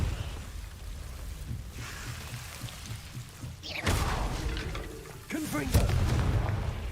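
Two heavy blasts from the Confringo spell in Hogwarts Legacy burst out mid-fight, each a sharp crackling explosion with a rumbling tail, over a low background rumble.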